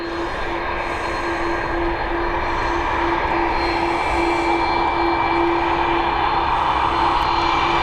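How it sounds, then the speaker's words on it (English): An Aer Lingus Airbus A330 takes off from runway 10R at Dublin Airport in the evening. Its jet engines roar loudly and steadily, with a sustained whining tone over a broad rumble, and no voices are heard. "just in time for the departure of this Airbus A330 operated by Aer Lingus"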